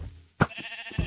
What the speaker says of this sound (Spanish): Esta oveja es muy interesante.